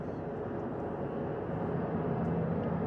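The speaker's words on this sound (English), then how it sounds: "2 more helicopters on their way to the flight deck" Helicopters approach a ship's flight deck: a steady, loud broadband rotor and engine rumble with no breaks, filling the whole stretch with constant drone.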